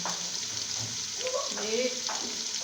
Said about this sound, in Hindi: इस स्टेज पर अब हम इसके बीच में डालेंगे यखनी।